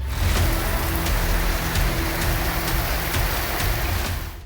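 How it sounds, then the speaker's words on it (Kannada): Heavy rain falls in Uttara Kannada district, Karnataka, making a loud, steady wash of noise with faint regular ticks throughout. "ಉತ್ತರ ಕನ್ನಡ ಜಿಲ್ಲೆಯಲ್ಲೂ ಭಾರಿ ಮಳೆಯಾಗ್ತಿದೆ."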